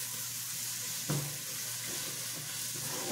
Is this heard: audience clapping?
no